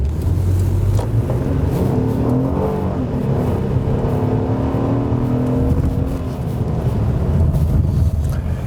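An Acura TL sedan with a J-series V6 drives along, its engine humming and rising in pitch under acceleration amid steady road and wind noise heard from inside the cabin.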